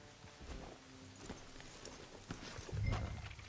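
Horse hooves clip-clop on the ground in Red Dead Redemption 2, soft and slightly distant, in an uneven walking rhythm that grows a little louder near the end, with no talking over it.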